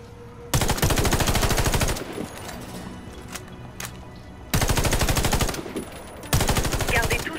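Automatic rifle fire at targets in the Warface shooter on Xbox Series X, with loud, rapid bursts of a second or more separated by quieter pauses holding single shots and game sounds.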